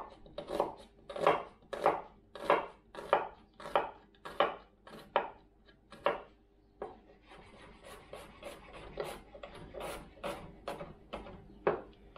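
A knife chops onions finely on a board for coleslaw, a brisk run of close, sharp, evenly spaced chops that pauses briefly and then resumes with quicker, lighter strokes.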